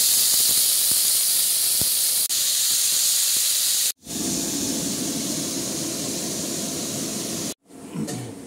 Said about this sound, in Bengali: ওই যে লাউয়ের খোসাগুলো আমি এবার ভাজবো